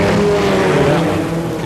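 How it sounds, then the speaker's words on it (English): Sports 2000 race cars, including a light blue Lola, roar past on a circuit at a 1980 national championship, a loud, steady engine drone with a slight shift in pitch as they go by. "John Paul Jr., the light blue Lola, car number 8, leading Greg Atwell in a similar machine."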